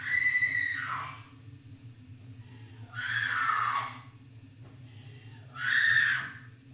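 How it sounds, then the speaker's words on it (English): Screams from The Blair Witch Project (1999), heard as three drawn-out, high-pitched wails spaced a few seconds apart over a low steady rumble, moderately loud and with nobody talking over them. "Wait, who's holding the camera now and who's screaming?"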